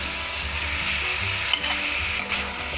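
Zucchini stir-fried with diced tomato in a hot wok, steady loud sizzling with a couple of brief scraping stirs, no voices.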